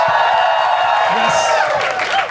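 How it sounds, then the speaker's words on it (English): Loud crowd applause and cheering from a studio audience, with a voice calling out over the clapping. "Big round of applause for our sponsor"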